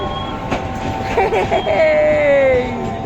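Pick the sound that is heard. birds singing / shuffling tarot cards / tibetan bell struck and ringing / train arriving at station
train arriving at station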